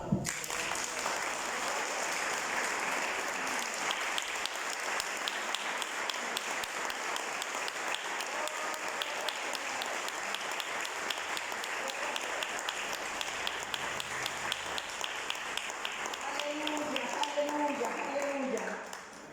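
A church congregation applauds together, dense sustained clapping from many hands filling the room for nearly twenty seconds, with scattered voices mixed into the crowd noise.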